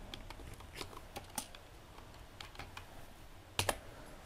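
Search words being typed on a computer keyboard: quiet, close, irregular key taps in short bursts, ending with a couple of louder clacks, no talking.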